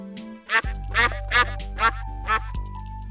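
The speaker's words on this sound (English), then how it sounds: "Duck." Duck quacking in five evenly spaced, loud, close quacks over a steady low background tone.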